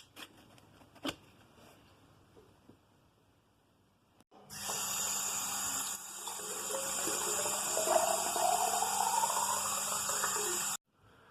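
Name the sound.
water poured into a cheap humidifier tank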